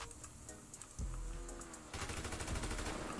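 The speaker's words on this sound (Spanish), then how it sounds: "Escucho los tiros" Gunfire in a video game: a sharp low blast, then a rapid evenly spaced burst of automatic shots in the last second, loud and close.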